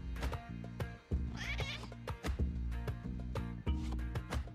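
Kitten meows from the video game Spelunky 2, a couple of short mewing calls over busy game music with repeated thumps and impacts.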